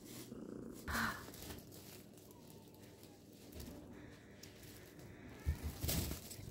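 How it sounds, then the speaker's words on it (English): A mother cat with her nine-week-old kittens purrs softly in a low, continuous rumble, with faint bird-like coos and a few brief bumps nearby. "Mama Cat Sparkle and her kittens."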